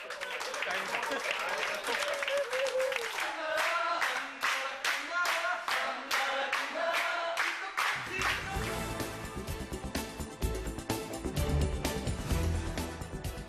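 A group of coworkers at a birthday party claps in a steady, dense burst of applause with cheering, loud and close, then the clapping fades into a busier, rumbling crowd and background din.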